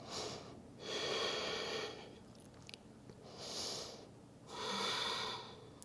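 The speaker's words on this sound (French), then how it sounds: "À l'inspiration, encore 2 belles respirations dans la pause." Slow, deep breaths taken during a beginner hatha yoga pose: three long, airy inhale-exhale swells with quiet pauses between, close and steady, no talking.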